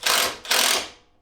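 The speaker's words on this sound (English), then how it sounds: "We're going to hit her with the old 1/4-inch drive non-impact bits." A 1/4-inch drive ratchet backs out a 10mm-headed M6 screw on a Honda S2000 during steering rack work, giving two quick, close bursts of ratcheting clicks separated by a short pause.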